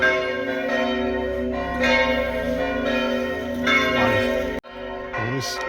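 Church bells of a damaged church in Chartrettes, France, ring steadily with a sustained, resonant tone, filling the space and fading briefly near the end.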